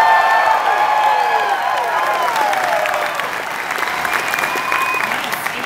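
A conference crowd applauds and cheers for a demo team, a sustained wash of clapping with whoops and whistles riding on top, loud at first and easing a little midway.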